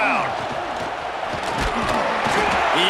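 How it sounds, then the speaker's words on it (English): A raucous stadium crowd in the college football video game EA Sports College Football 26 roars as a constant background wash, with a play-by-play commentator talking over it. "raucous crowd."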